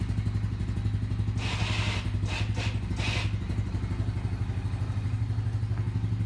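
A Honda engine idles with a steady, low, rhythmic chug close by, while a brief burst of clattering and thumping rises over it midway before the even idle carries on alone.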